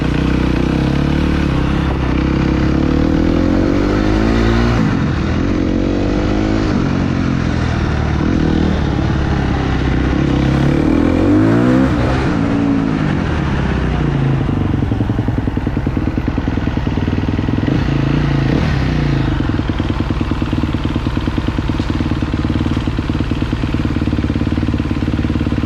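KTM motocross bike engine revving hard in first gear, loud and close with rising and falling throttle sweeps and a rattling, clattering mechanical edge throughout.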